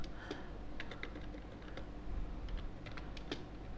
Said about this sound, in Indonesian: Saya ketik dulu.